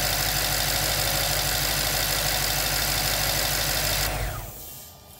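A BMW N63 V8, being diagnosed for an overboost fault, runs at a loud, steady idle close by, then shuts off and falls quiet near the end.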